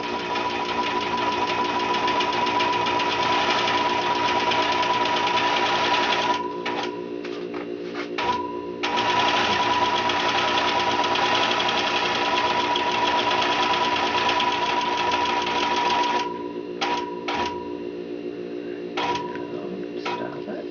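A longarm quilting machine stitches a charity quilt with a loud continuous whirring hum and rapid needle ticking, stopping briefly and restarting in bursts as it changes direction.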